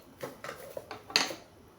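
Plastic utensils from a camping cooking set for four to six people being handled, giving a few light clattering knocks and one sharper clack, close and fairly quiet, with no talking.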